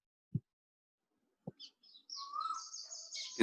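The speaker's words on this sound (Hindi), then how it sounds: "कोयल की आवाज आ रही है" An Asian koel calling outdoors in the evening, a few rising whistled notes at moderate distance after a couple of soft knocks, fairly faint against a quiet background.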